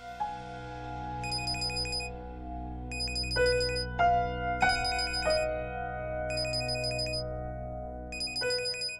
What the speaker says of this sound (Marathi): फोन घे ना प्लीज. वाजू दे ना.